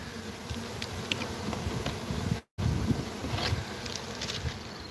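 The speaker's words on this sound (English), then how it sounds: "A few bees on the top, not many." Steady, dense buzzing of honeybees at close range during a swarm removal at a mobile home community, continuous throughout with a brief dropout in the middle, no voices.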